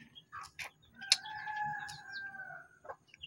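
A Minecraft chicken clucks in short bursts, then gives a longer drawn-out call, fairly close and clear with no talk over it.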